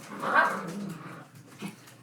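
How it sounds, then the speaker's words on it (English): A small dog whimpers and whines indoors, a short high plaintive cry followed by softer fading whimpers, fairly close and faint. "He went after me whimpering."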